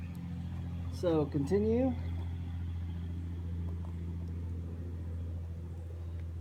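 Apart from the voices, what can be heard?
5.7 Hemi engine running on engine stand with EZ-EFI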